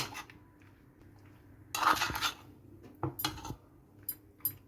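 A metal spoon clinks and scrapes against a bowl while stirring mayonnaise pasta salad, in a few short bursts of clatter separated by quiet pauses.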